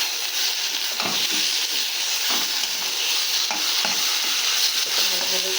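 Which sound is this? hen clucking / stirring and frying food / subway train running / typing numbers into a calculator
stirring and frying food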